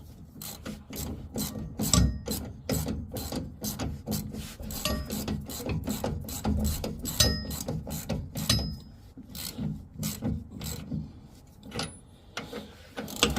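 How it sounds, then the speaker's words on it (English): A ratchet tightens the rear shock bolts on a 1955 Chevrolet Nomad with rapid, repeated clicking strokes in a steady rhythm, close up, with metallic rasping and occasional knocks between pulls. "Flip the ratchet to the tighten side. Let's try to clamp them down."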